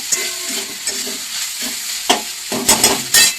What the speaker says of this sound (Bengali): দেখো আমার চিকেনটা ভাজা হয়ে গেছে